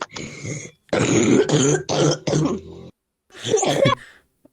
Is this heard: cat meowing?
no